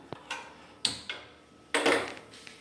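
A kitchen gas stove is lit with a few sharp igniter clicks, irregularly spaced, followed by a louder burst of rushing noise, all close and otherwise quiet.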